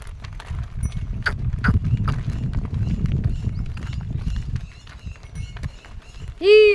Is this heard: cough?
no